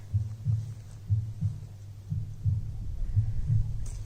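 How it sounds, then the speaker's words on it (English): A metronome at Salaspils Memorial ticks out a slow, steady heartbeat-like thump, low and throbbing, repeating evenly about twice per second against a quiet outdoor background. "It's a metronome that is sticking here. It symbolizes the heartbeat of the people who died here."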